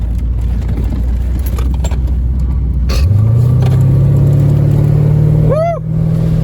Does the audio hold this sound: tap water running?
no